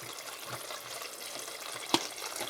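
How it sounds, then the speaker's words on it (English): Oil fries seasonings in a pot for vegan jollof rice, a steady close hiss of sizzling with a brief clink or stir near the end, no talking. "While this fries."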